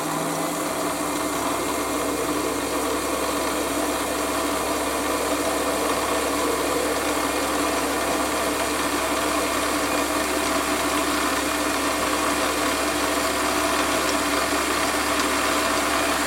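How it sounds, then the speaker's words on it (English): A steady mechanical whir of a Warco WM180 lathe running continuously, with a faint ticking texture and no voices, as it centre drills a hole. "centre drill the hole."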